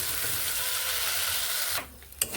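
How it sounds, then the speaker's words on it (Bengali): A tomato and ground flat bean paste sizzles and is stirred in a frying pan, with a steady loud fry that cuts off near the end, leaving a few faint scraping clicks. "এবার এখানে আমি বেটে রাখা শিমগুলোকে এখানে দিয়ে দিচ্ছি দিয়ে এর সঙ্গে ভালোভাবে এইভাবে নেড়ে কষিয়ে নিচ্ছি"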